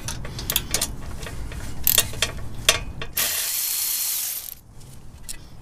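A ratchet wrench loosening the 10 millimeter bolt holding an ABS sensor on a steering knuckle, a series of quick close clicking strokes followed by a longer steady whirring spin, with no talk.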